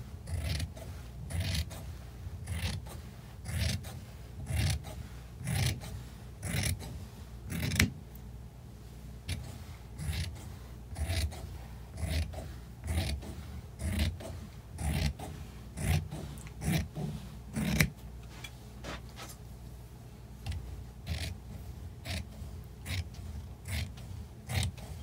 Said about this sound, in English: so I shall use scissors, which, as this is such a nice suede,